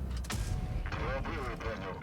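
A single tank cannon shot from a KPZ 50T in a tank video game booms once near the start, followed by a fading mechanical tail as a voice talks over it.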